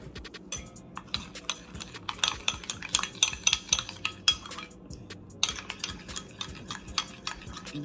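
Seasoning salt being mixed with three tablespoons of olive oil in a bowl: quick, light clinks and scrapes of a utensil against the dish in an irregular rhythm, close and fairly quiet, with no talking.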